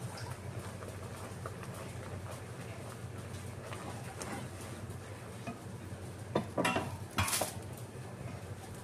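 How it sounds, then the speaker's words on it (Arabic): Sesame halva being stirred in a pot, a steady low scraping and bubbling texture with a few sharper clinks of the spoon against the metal pot toward the end. "نفضل نحرك في الحلاوة بتاعتنا."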